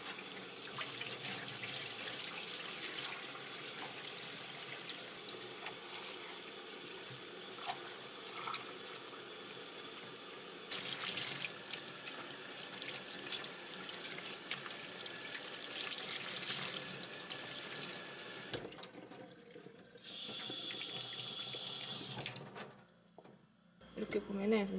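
Sink tap water runs steadily while dish cloths are rinsed and washed in a kitchen sink, a continuous close splash with sloshing shifts and drips. The flow cuts off near the end.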